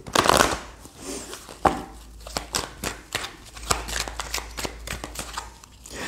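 Tarot cards shuffled by hand in a quick run of crisp riffling and slapping bursts, close and fairly loud, with a few pauses between flurries and no talk over them.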